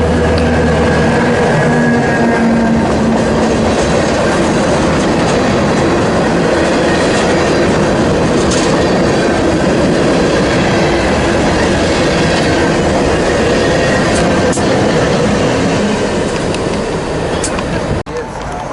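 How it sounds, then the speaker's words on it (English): A local freight train crosses over from track 2 to track 1 at CP Wyomissing on the NS Harrisburg line, heading east onto the Reading line, with a steady close rumble and clickety-clack of wheels over the switches throughout. "This train is going to be switched from 2 to 1 onto the Reading line to continue its journey east"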